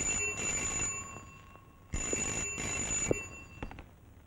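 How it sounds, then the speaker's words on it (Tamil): A telephone rings in two short bursts of trilling electronic tone, fairly quiet, with a brief pause between rings and no talking. "மணி அடிக்குது, போன்"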